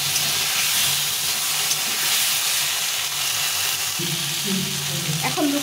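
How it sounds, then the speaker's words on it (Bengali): A ground masala of ginger, cumin, chilli and coriander fries for fish curry, a loud, continuous close hiss and sizzle with stirring, ending with a brief clatter. "দিয়ে এটাকে ভালো করে কষিয়ে দেবো"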